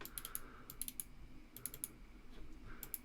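Typing on a computer keyboard while setting up a Max patch, with irregular bursts of light, quiet key clicks separated by short pauses and no talking.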